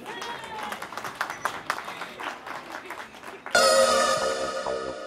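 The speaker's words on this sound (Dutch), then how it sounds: "Maar ook een duivel applaus, dames en heren, nog voor Jessie Druits, Kaat van der Meulen en Nathalie Verschelden." Applause for women's youth cycling race finishers at Heule, a crowd clapping steadily under an announcer's voice, then swelling louder and denser toward the end.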